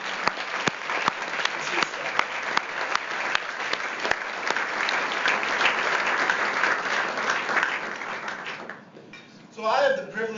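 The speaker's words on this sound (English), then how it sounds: "can you please give a big round of applause to our esteemed panel?" Audience applause for a panel at a Phoenix chamber of commerce event, a dense sustained wash of clapping with sharp individual claps, fading out near the end as a voice begins speaking.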